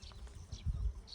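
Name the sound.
bees buzzing at an apiary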